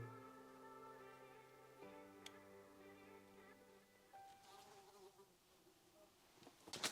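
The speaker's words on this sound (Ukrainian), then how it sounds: "Муха залетіла." A housefly buzzing indoors in a village house during window installation, a close, wavering drone with shifting pitch that fades and changes as the fly moves, with no voices over it.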